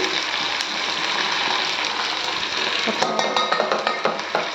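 A spoon stirring curry leaves into a rice mixture for lemon pulihora in a pan, a continuous soft scraping and rustling that grows into sharper clinks of utensil on metal toward the end.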